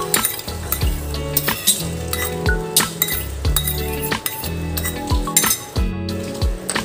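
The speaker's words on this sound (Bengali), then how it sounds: "এবার আমের কাইয়ের সাথে ভালো করে দইটা ফেটিয়ে নিতে হবে" Yogurt whisked into mango pulp in a bowl, quick repeated clinking and scraping of a utensil against the bowl in an uneven rhythm, close and clear with no voices.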